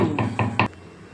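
Three quick metallic clunks of a kadai pan being set down on a stove, close and distinct, followed by a brief ringing tail.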